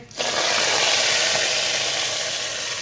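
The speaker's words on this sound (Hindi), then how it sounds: "आप इसके ऊपर हम डालेंगे तड़का।" A sudden loud hiss as hot tempering oil hits kadhi pakora curry, settling into a steady, crackling sizzle.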